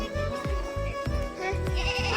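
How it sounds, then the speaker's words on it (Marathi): Several goat bleats in quick succession, nasal and wavering, close by over a steady background hum. "बकऱ्या"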